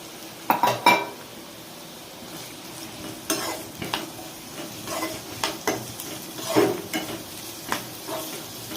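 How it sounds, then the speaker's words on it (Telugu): Onions and green chillies go into hot oil in a kadai for egg bhurji, giving a steady close sizzle with clinks and scrapes of a spoon against the pan scattered throughout, and no talking. "ఆయిల్ హీట్ అయింది. ఆనియన్స్ పచ్చిమిర్చి వేసుకుందాము."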